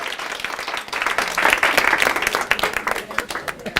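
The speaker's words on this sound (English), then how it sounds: "I get a round of applause with you standing" Applause from an audience of women at a leadership talk, starting lighter and swelling into full, sustained clapping with sharp individual claps near the end.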